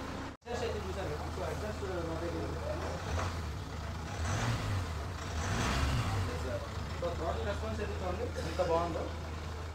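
A Mahindra Thar Roxx diesel engine idles with a steady low rumble from its exhaust, close and continuous, while someone talks over it.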